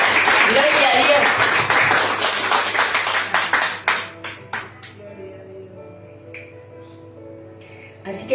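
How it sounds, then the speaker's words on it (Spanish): Church congregation claps loudly during a sermon, dense applause that thins into scattered individual claps before fading into quiet, with a voice speaking over the closing moments. "Denle un fuerte aplauso a Dios"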